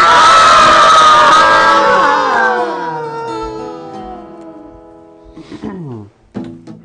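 A crowd screams in a loud, dense burst that slowly fades and falls in pitch as it dies away, followed by a couple of shorter vocal outbursts near the end, part of a performance at the Desert Bus for Hope charity event.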